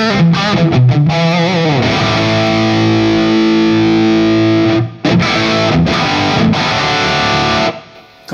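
Heavily distorted electric guitar through a modded Marshall DSL100H amplifier, sounding a few chords with a long sustained ring and heavy low end, loud and close, with no voice.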